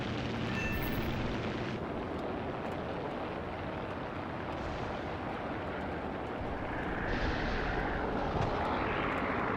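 Ki-43 fighter's propeller engine droning in War Thunder, a loud, steady, rough roar that holds throughout with a slight swell near the end.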